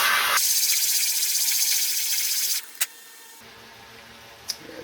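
A high-pitched rotary tool whines loudly as a 120-grit sanding bit grinds the thick inner edge of a coin ring, then the motor cuts out, leaving a quieter hum and a couple of sharp taps.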